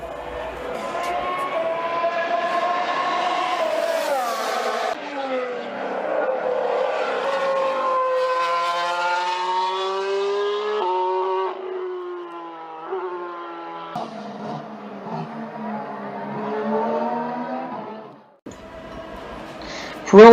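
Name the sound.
2016 Formula One cars with wastegate driving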